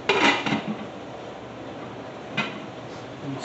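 A lid set onto a slow cooker during home cooking of soy-garlic chicken: a short clattering knock of the lid against the pot, then a second lighter clink, close and alone.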